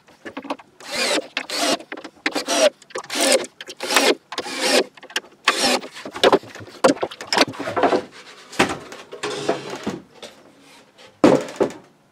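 Screwing a back panel onto the clamped lower section of a pull-out French cleat wall, with a drill driving screws into wood in repeated bursts of whirring and grinding, broken by short pauses, close and fairly loud.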